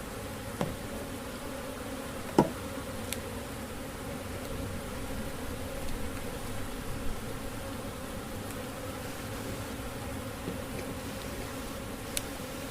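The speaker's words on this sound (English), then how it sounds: "So what I do is I now get my tray out and I just shake the bees into there." Honey bees buzzing steadily and close, a dense insect drone that holds for the whole stretch as they are shaken off a frame into a tray, with one sharp tap partway through.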